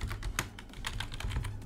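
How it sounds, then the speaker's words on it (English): Quick keystrokes on a computer keyboard as a search term is typed into the Windows search bar, a close, steady run of clicking taps with no talking. "go to the Windows search bar and type in"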